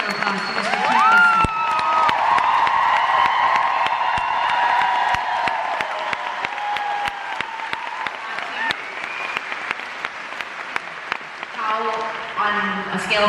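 Theatre audience at a concert at the Queen Elizabeth Theatre bursts into loud, sustained applause and cheering with whoops for a volunteer, dense clapping throughout with some voices rising over the crowd.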